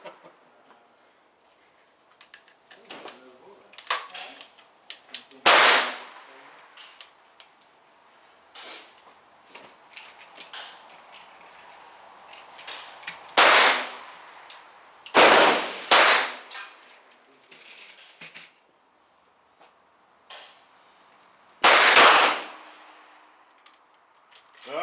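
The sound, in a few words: gunshots from target shooting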